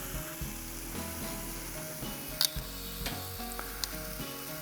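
Lamb chops sizzle on a 22-inch Weber charcoal grill, a steady close hiss of searing fat broken by sharp pops and crackles throughout.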